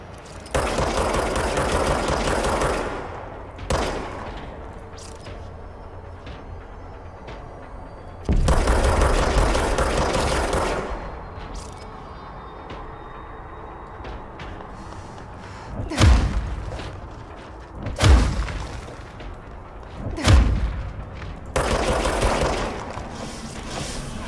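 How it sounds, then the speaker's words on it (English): Gun firing in the game Control, several loud rattling bursts lasting a few seconds each, followed by sharp single thumping shots against quiet background. "Oh, that's a gun."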